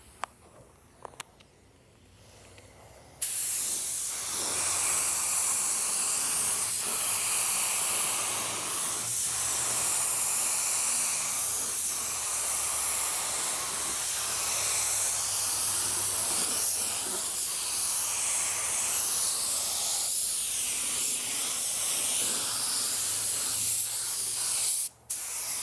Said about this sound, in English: We're going to go ahead and apply our clear base.